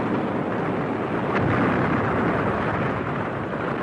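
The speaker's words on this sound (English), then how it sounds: "From the speedboat, Turbo and Cat witness the mighty explosion as the freighter disintegrates" A freighter explodes in an audiobook scene, a sustained roaring blast of dense, rumbling noise that stays loud for several seconds with a sharp crack near its start.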